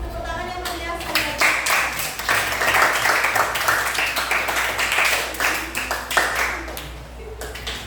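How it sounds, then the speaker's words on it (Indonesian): A classroom of students claps together in a lively burst of applause, with dense, uneven hand claps rising quickly and fading toward the end over a faint room hum. "Tepuk tangan yang meriah sekali."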